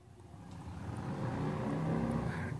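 Passing vehicle traffic heard from a city backyard: a steady low rumble that swells gradually as a vehicle goes by in the distance, moderately faint.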